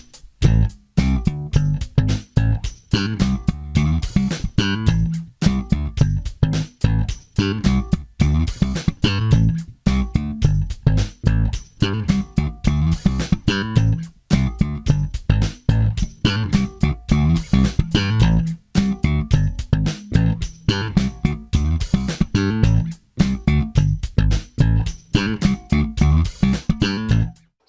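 An electric bass plays a slap riff, a rapid stream of punchy percussive thumps and pops. It runs over a steady drum machine beat, loud and continuous for nearly half a minute.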